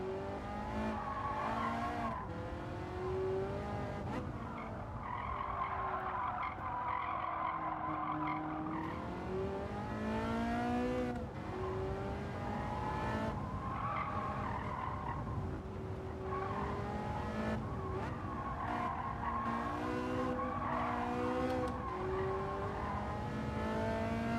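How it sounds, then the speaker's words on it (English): A race car in the video game Gran Turismo 7 runs off onto the grass under braking, its engine note wavering and tyres scrubbing in a steady, continuous roar with shifting pitch throughout. "Oh, I'm on the grass. Keep it straight, on the brakes."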